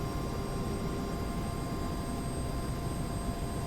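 A UH-60L helicopter engine in a flight simulator game settles toward idle, a steady, even turbine whine with a constant hum and no change in level.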